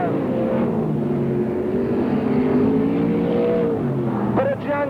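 Sprintcars from the 1981/82 season race down the main straight at Parramatta City Raceway, a loud, continuous engine roar with shifting revs under steady commentary, a sharper rising whine near the end.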